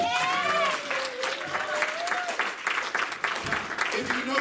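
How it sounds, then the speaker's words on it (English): A church congregation clapping hands during a praise service, a busy steady wash of clapping under a sung or called-out voice that rises and falls across the clip. "clap your hands"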